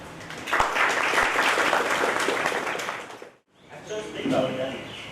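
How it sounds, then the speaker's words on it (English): Audience applause welcoming competitors at a public speaking competition's qualifying round, a broad wash of clapping that fills the room for about three seconds, drops away briefly, then returns with people talking over it. "let's give a big round of applause to welcome all the competitors and participants here"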